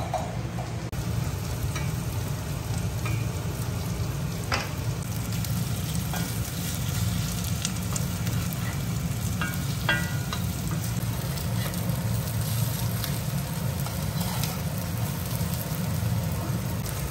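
Dough frying in hot oil in a flat pan, giving a steady, close sizzle with light crackles that runs unbroken for the whole stretch, with no voices.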